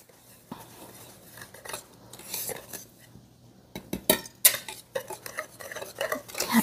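A whisk scrapes and taps against a bowl while mixing sugar and dry ingredients for a hummingbird cake, a close, busy run of quick clinks and rattles that grows louder toward the end, with no talk.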